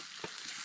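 Meat and onion for a Philly cheesesteak fry in a vat of fat at a bushcraft camp, a steady close sizzle with a faint soft stir partway through.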